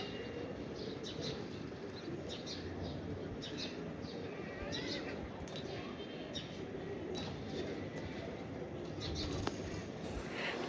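A busy outdoor flock of pigeons being fed, with soft cooing and fluttering wingbeats over a steady wash of ambient crowd and street noise.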